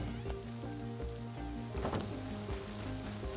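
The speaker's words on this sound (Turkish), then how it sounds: "Bu yağmur ne zaman inecek acaba ya?" Steady rain falls in the survival game Rust, a constant hiss with a brief louder gust of drops midway, layered over looping game music with a low rhythmic bass pattern.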